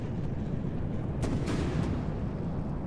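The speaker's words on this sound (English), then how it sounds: "Basically, I can fire a short volley of torpedoes" A torpedo launcher in From the Depths, based on the Triton design but scaled up, fires a short volley: a heavy rumbling roar with a few sharp bursts close together.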